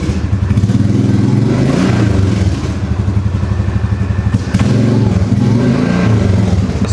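An ATV engine bought as a parts quad runs close by in four-wheel drive, chugging with a rough, pulsing idle and clattery knocks, briefly dipping before picking back up.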